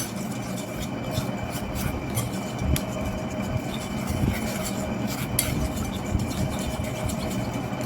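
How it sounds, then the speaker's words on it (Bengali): A DIY hair mask mixture with castor oil is whisked briskly in a bowl, giving a steady run of quick clinking and scraping strokes that continues throughout, with a faint background hum. "তো দিয়ে এটা আমি ভালো করে এরকমভাবে ফেটিয়ে নেবো।"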